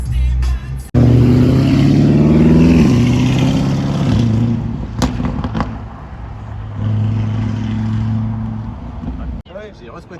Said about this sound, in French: la tourelle a repéré une BMW M2 CS d'année 2020